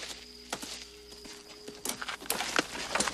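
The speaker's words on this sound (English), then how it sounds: "Get off my horse." A horse's hooves clip-clop at a walking pace in an action film scene, with irregular sharp knocks that grow busier and louder toward the end over light background noise.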